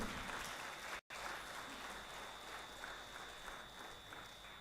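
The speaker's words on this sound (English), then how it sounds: "Huge round of applause for Uma Devi from Ford, Chennai." Audience applause for a presenter at a college event in Chennai, a dense, even wash of many clapping hands from a large crowd, steady for several seconds with a brief break near the start.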